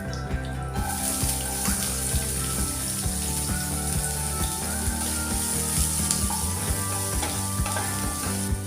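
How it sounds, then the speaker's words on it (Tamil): Chopped onion sizzles steadily in hot oil with cumin, urad dal and curry leaves for wheat adai dosa, with loud continuous frying crackle and regular light clinks of stirring close by. "இப்போ இதில் பொடியாக நறுக்கின ஒரு வெங்காயம் சேர்த்துடலாம்"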